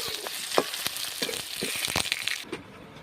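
Onion, ginger, garlic and whole cumin seeds fry in hot oil for an egg curry, a continuous sizzle broken by scraping stirs and clicks of the spatula against the pan.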